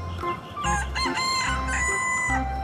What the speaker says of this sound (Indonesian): di sini ada hewan yang suka berkokok